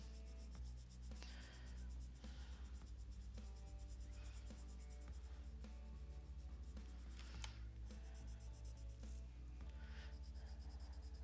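Coloured pencil dragged and blended on toothy paper, pressed fairly hard, gives a steady, close scratchy rasp of continuous strokes with no one talking.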